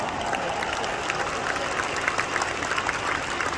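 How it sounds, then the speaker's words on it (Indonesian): Applause from the audience at a business seminar in Kuala Lumpur, a steady dense patter of many hands clapping with no voices over it. "Kita pantas beri tepuk tangan meriah untuk Anda semua."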